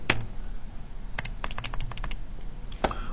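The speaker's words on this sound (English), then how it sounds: "if you type that in your calculator" Close, light tapping as numbers are keyed into a calculator: a few isolated taps, a quick cluster of presses in the middle and one more at the end, over faint room noise.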